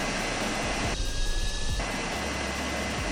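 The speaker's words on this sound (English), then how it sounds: "we're gonna add some sound effects for the vacuum cleaner" A steady whooshing engine-like drone with a thin high whine rising briefly in the middle, like a synthesized vacuum cleaner effect.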